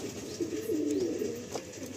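Pigeons in a loft coo steadily, a low rolling call that swells in the middle, close and alone.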